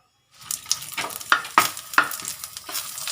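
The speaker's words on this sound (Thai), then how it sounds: "ขอทอดพริกก่อนนะคะ พริกแห้งเนี่ย" Dried chilies frying in oil over low heat, a soft steady sizzle with a few sharper crackles and pops standing out; no talking.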